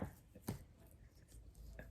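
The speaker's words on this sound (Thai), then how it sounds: "หั่นบางก่อนนะคะ ประมาณนี้เนาะ ไว้สำหรับผัดนะคะ" A knife slicing raw pork neck thinly on a cutting board for stir-fry, giving a few soft, irregular chopping taps, faint and close, with light kitchen background.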